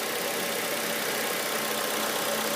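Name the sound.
swapped 2002 Honda CR-V engine idling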